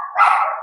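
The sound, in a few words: dog barking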